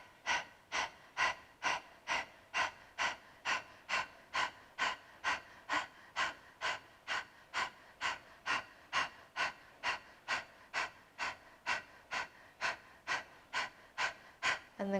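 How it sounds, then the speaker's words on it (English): Breath of Fire practice with the mouth open and tongue out: about thirty quick, even, forceful breaths in a steady pulsing rhythm, close and clear with no talking. "So mouth open, tongue out, start the breath."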